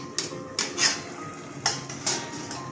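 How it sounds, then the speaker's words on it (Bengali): A metal lid comes off a pot of cooking sponge gourd, with a few sharp, close clinks and clatters spaced across a short stretch and quiet between them. "আবার ঢাকনাটা খুললাম।"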